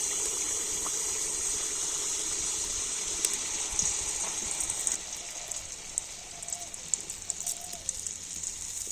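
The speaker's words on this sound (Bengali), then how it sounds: "আর এবার আমি ব্যাটার নিয়ে তো কড়ার ঠিক মাঝখানে এক জায়গায় দিয়ে দেব।" Poa pitha batter dropped into the centre of a wok of hot oil, giving a steady bright sizzle of frying with light crackles and pops throughout, close by, with no talk.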